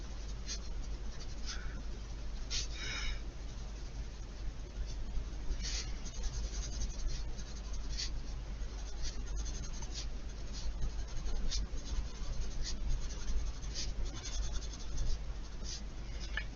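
A pen draws and colours in circles on paper, making steady scratchy strokes and short quick scribbles over a low constant hum for a long stretch, with no talking.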